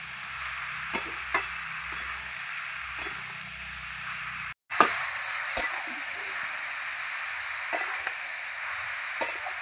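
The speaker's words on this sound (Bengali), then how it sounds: "আলুর সঙ্গে বাঁধাকপি নেড়ে চেড়ে নিয়েছি কিছুক্ষণ।" Cabbage and potatoes are stirred in a frying pan for a cabbage curry with catla fish head, giving a steady sizzle with scattered scrapes and clinks of the utensil and one brief break.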